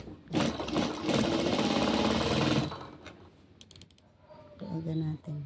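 A sewing machine stitches the folded hem of a gown in one steady, close mechanical whirr lasting a couple of seconds, followed by quieter handling clicks and a brief voice.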